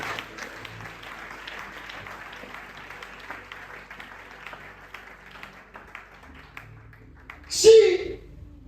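A church congregation applauds, a dense patter of many hands that slowly thins out over several seconds with voices mixed in, ending in a sudden louder burst of sound near the close.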